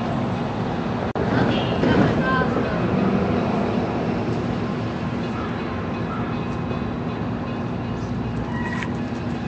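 Railroad cars rumble and shift at close range with a sharp metallic clank near the start and a steady mechanical drone throughout, while people talk in the background.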